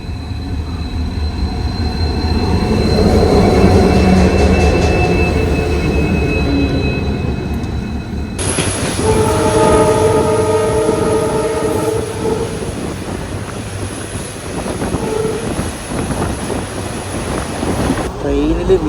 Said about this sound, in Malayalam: നമ്മൾ പോകുന്ന വാസ്കോ കുലം പാസഞ്ചർ തന്നെ വന്നുകൊണ്ടിരിക്കുകയാണ്.